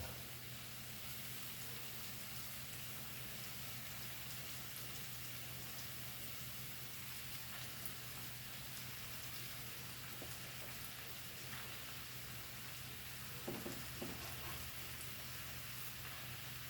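Chopped onion and chicken wings fry in a pan, giving a quiet, steady sizzle and crackle that continues evenly throughout with a few faint clinks.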